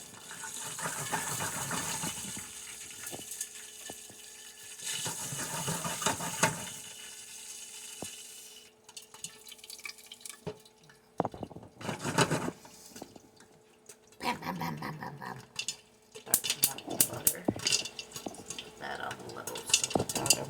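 Popcorn kernels pop in a pot on the stove while the pot is shaken, giving bursts of rattling, clattering metal with stretches of quieter sizzling between them. A voice speaks at times.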